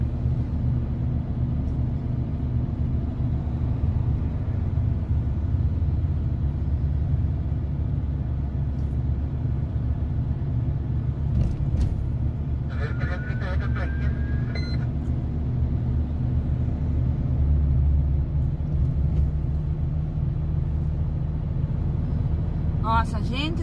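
Bus 112 descending the Serra do Cadeado gives off a continuous, loud low rumble of engine and road noise that holds steady throughout, with occasional brief beeps and rattles on top.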